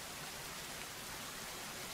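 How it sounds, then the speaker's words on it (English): Steady rain falls in The Forest video game, a dense, even hiss of drops on surfaces that stays constant and fairly quiet throughout, with no voices present. "it's actually raining now"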